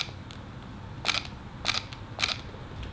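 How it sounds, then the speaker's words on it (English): Mechanical shutter of a Fujifilm X-Pro2 camera fires three times at even intervals, each a crisp, close double click over quiet background hiss. "And then we're gonna listen to the mechanical shutter on"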